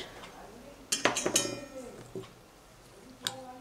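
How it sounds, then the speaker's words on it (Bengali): A spoon clinks and scrapes against a bowl while red chilli powder, turmeric, garam masala and baking powder are mixed for egg tomato pakoda, in a few quick bright knocks with quiet gaps, and a bird calls faintly in the background. "ভালো করে এগুলোকে মিশিয়ে নিচ্ছি"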